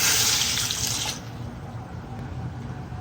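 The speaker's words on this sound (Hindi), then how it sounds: "अब साथ ही 1 कप पानी डाल देंगे।" Water pours from a cup into a pot of mutton qorma for about a second, a bright splashing rush that cuts off abruptly, leaving a faint low background hum.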